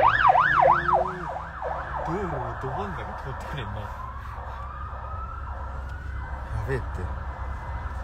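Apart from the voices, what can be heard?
fire engine siren passing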